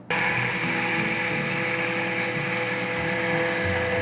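A blender grinds a gelatin and chocolate dessert mixture, giving a steady, even motor drone that runs unbroken at close range.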